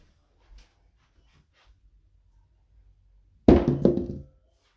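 Craps dice land with a single sharp clatter and short rattle on the table at the end, following several seconds of near silence with faint soft noises.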